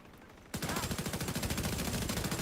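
A turret firing in Warframe, a sudden onset of rapid, evenly spaced automatic gunfire that stays loud and continuous to the end.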